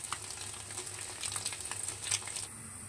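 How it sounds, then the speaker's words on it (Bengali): Potato sizzles softly in butter in a pan with light crackles and a few stirring taps, fairly quiet and close, then a brief drop in the hiss near the end. "আলুটাকেও আমি বাটার দিয়ে ভেজে নিচ্ছি।"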